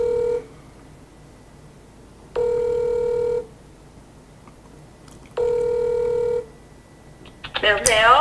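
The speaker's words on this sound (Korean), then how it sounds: "기자와 통화를 제가 한번 해보겠습니다" A telephone call being placed from a broadcast studio: two long repeated ringback tones separated by silence, clear and steady, followed by a brief burst of line noise as the call connects.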